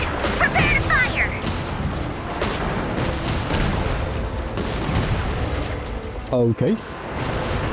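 A volley of gunfire in the video game Genshin Impact, with sharp shots and crashes scattered across a busy combat soundscape, ending with a louder burst near the end, while a voice talks throughout.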